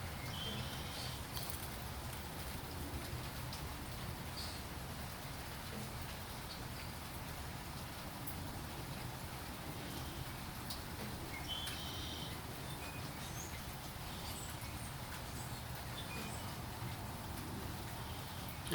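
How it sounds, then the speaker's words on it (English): Light rain falling steadily on a calm, cloudy day with no wind, a soft continuous patter with occasional faint drop ticks, distant and quiet throughout. "It is nice to get some rain, you know, it's nice and cloudy."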